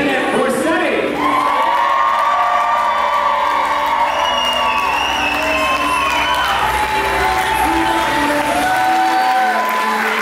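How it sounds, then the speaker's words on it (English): A crowd at a DJ-hosted event at the Royal Sonesta Hotel in Cambridge, Massachusetts, gives a round of applause for parents. Loud cheering, whoops and shouts run continuously throughout, with voices mixed into the noise. "what a nice big round of applause for the parents of the crew, Rick and Janet Borsetti"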